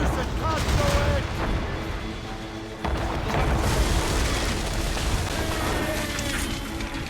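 Cannon fire during a naval ambush in Assassin's Creed Rogue, heavy booms and rumbling blasts mixed with battle din, with shouted voices over the gunfire.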